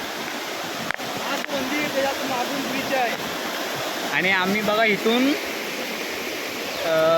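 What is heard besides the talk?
rising water flowing after heavy rain near a hill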